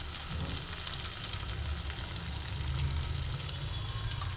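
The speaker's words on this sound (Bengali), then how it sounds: "ভালোভাবে নাড়াচাড়া করে ডিমগুলোকে ভেজে নিচ্ছি" Two eggs fry in a pan with salt while being stirred, producing a loud, continuous sizzle with a low rumbling undertone and occasional light scraping.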